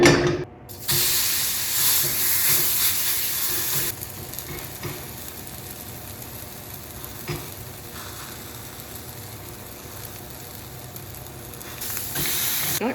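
Food frying in a pan on low heat, giving a steady sizzling hiss that is louder at first and then settles into a quieter continuous crackle, close by with no talk.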